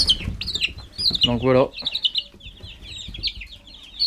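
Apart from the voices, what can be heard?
hens clucking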